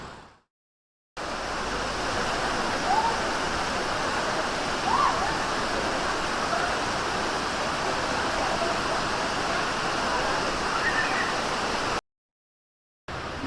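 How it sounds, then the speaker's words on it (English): A long waterfall near Ella, Sri Lanka, spills into a swimming pool. Its steady, full-bodied roar of rushing water is heard up close, with brief silent cuts at the start and end. "Yeah, it's a pretty long waterfall."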